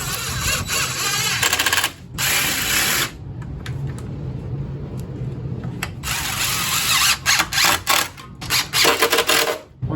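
A power drill drives screws into the mounting holes of a wireway for PV conduit, with long steady whirring runs broken by brief gaps and a stretch of short stuttering bursts near the end, close and loud.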